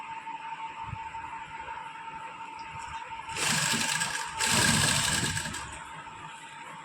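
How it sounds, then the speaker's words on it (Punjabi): A sewing machine runs in two short bursts, a few seconds each, stitching cutwork lace right along the edge of a suit, loud and close over a quiet room hum. "ਹੁਣ ਆਹ ਵਾਲੀ ਸਲਾਈ ਨੂੰ ਆਪਾਂ ਬਿਲਕੁਲ ਕਿਨਾਰੇ ਕਿਨਾਰੇ ਤੇ ਲਗਾ ਦਾਂਗੇ"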